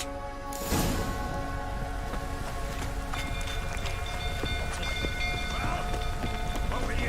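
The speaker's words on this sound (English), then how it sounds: "Looks like rain." Steady rain hisses throughout The Witcher 3, a dense wash of noise with occasional distant clanks and tones in a game-like ambience, no talking.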